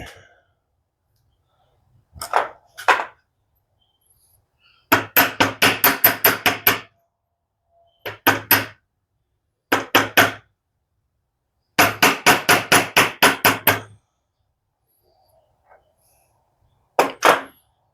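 Bursts of rapid hammer blows from a small furniture hammer in quick runs of five to eight strikes, separated by pauses and a few isolated single knocks, loud and close.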